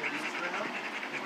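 A dog pants steadily and close up, quick rhythmic breaths running through the whole moment with no voices over them.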